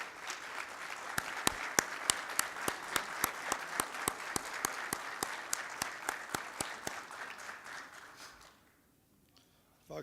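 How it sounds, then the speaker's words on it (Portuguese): An audience at a lecture on sleep quality breaks into a round of applause, with sharp, distinct claps over a steady bed of clapping that fades out toward the end before a brief sound at the close. "Gostaria de uma salva de palmas, Adriano"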